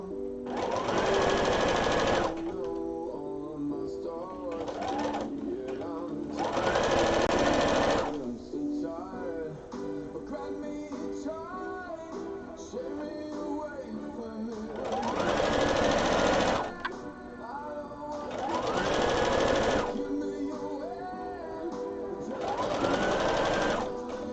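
A sewing machine runs in several loud, buzzing bursts of a few seconds each, separated by quieter pauses with a faint background hum.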